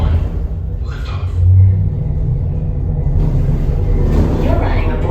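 Deep, loud rumble swelling at liftoff on the Space 220 space elevator ride simulator, a low steady roar that holds for several seconds under faint announcer speech.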